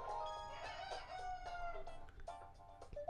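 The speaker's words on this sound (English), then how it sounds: "Chicken?" Chickens cluck and squawk in a run of short bursts from the Wii Party U animal matchup game, a bright cartoonish farmyard clatter with no voices over it.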